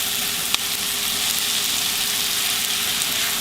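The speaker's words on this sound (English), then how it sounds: "let these simmer just a few minutes and get soft" Vegetables in a skillet sizzle steadily, a dense crackling hiss that holds close and even throughout, with a brief clink partway through.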